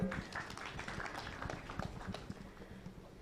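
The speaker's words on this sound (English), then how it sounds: "A round of applause for him." A crowd at a tech challenge awarding ceremony gives a round of applause after a correct quiz answer, a dense patter of many hands clapping steadily at moderate distance, with some voices mixed in.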